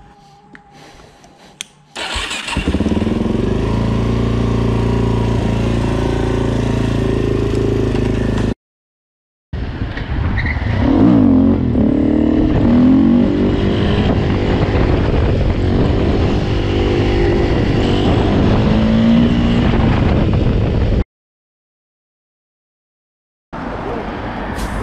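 Several motorcycles gather, start up and ride off in a group, engines rumbling and revving loudly and continuously, with brief cuts to silence between stretches of noise.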